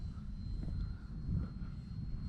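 A DYNAM Skytrainer 182 RC airplane's electric motor drones steadily during takeoff on a runway, heard from some distance over a low, rumbling wind noise.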